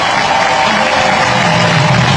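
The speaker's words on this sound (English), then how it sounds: "And a huge ovation right now by the crowd." A big crowd at an Olympic match in Paris gives a huge ovation: a dense, steady roar of cheering and clapping that stays loud and unbroken throughout.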